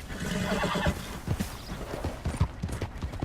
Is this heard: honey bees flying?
no